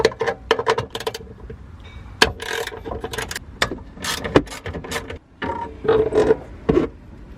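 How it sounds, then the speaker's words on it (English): A 10mm socket unbolts a car amplifier in a Lexus IS during an audio install, giving irregular clicks and ratcheting bursts with scraping metal sounds, close and fairly loud, no talking. "I'm gonna unbolt the amp. 10mm right here, and 10mm right there."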